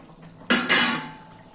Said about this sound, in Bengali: আবার একটু হালকা করে নেড়ে দেব।